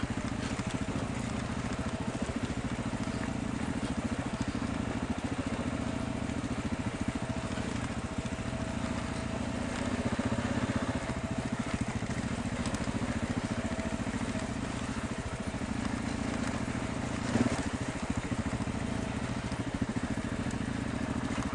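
Motorcycles climbing over loose rock on Hancock Pass in Colorado, a steady low engine drone with crunching gravel running the whole way, close and even in level with no talk.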